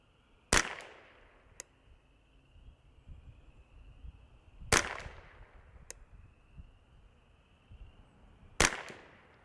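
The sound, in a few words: Ruger 10/22 .22LR rifle shots at target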